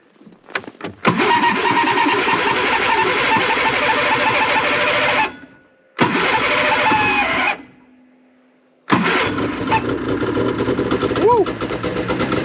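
A snowmobile engine fires up in extreme cold, catching after a few sputters and then roaring loudly. It cuts out briefly and restarts, running rough, with a person's voice heard between the bursts.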